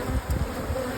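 Honey bees buzz in a dense, steady drone from an open hive whose brood chamber holds the queen and drawn comb, close and continuous with soft low thumps from the beekeeper handling frames.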